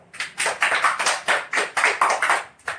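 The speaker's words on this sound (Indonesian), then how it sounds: "beri aplaus untuk Farel" A classroom of students applauding a classmate named Farel, a brief burst of quick, evenly rhythmic hand claps, close and fairly loud.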